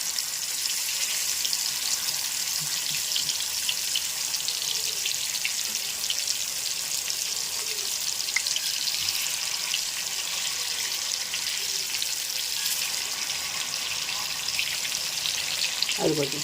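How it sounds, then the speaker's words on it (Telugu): Chicken legs frying in oil in a home kitchen, a steady broadband sizzle that holds evenly throughout at moderate loudness, with faint clinks now and then. "చక్కగా నూనెలో వేగుద్ది అనమాట."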